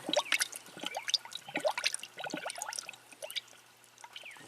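Air-pocketed coolant gurgles and bubbles in the cooling system of an overheating Jeep Pentastar V6 after engine repair, with faint, irregular pops and trickles and no voices.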